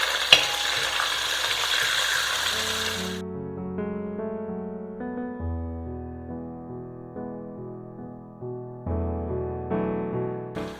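Small onions frying with lentils in a pan for a vangi bath rice dish give a dense, steady sizzle for about three seconds; music then takes over and runs to the end.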